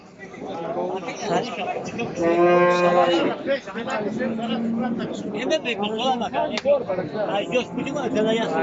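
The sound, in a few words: cattle mooing at a livestock market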